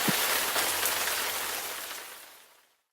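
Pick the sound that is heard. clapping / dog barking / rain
rain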